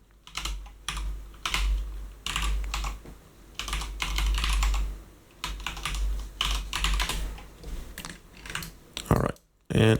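Keys clatter on a computer keyboard in quick bursts of taps separated by short pauses, close and clear, with no talking over them.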